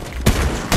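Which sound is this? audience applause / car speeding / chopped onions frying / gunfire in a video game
gunfire in a video game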